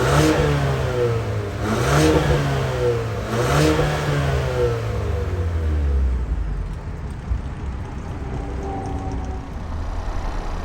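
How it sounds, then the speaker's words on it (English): A 2023 Ford Explorer ST Line revs through its dual exhaust, two or three rising and falling engine swells close by before settling back to a lower rumble. "functional dual exhaust. So let's see what this ST line sounds like."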